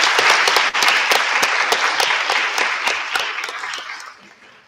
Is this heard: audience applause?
yes